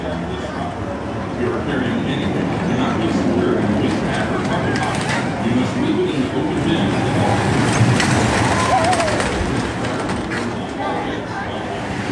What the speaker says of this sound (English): the Cedar Creek Mine Train is right over here